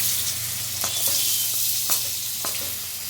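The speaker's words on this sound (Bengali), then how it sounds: "সবসময় গাজর আগে ভেজে নিতে হয়" Carrots frying in a pan for fried rice give a steady oil sizzle with a few sharp scrapes of a stirring utensil, close and alone.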